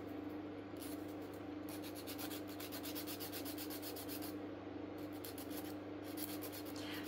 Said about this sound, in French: Ça va tout seul avec une lime.